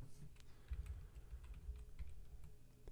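Keystrokes on a computer keyboard in a Pro Tools recording session tap in a quick, irregular run of soft clicks over low background hum.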